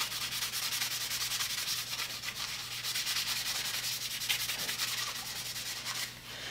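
A green Scotch-Brite pad rubbing over the finished wooden handle of a two-man saw, making a continuous close scrubbing rasp with quick back-and-forth strokes.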